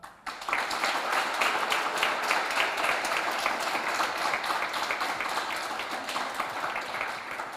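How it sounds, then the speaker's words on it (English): A conference audience claps together in sustained, dense applause that starts abruptly and continues evenly at a steady loud level throughout. "let's do the very last clap"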